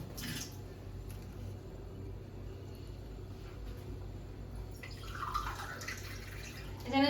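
Water runs and splashes into a pan sitting on a lit gas stove. A steady, watery drip and trickle continues throughout and grows a little stronger near the end.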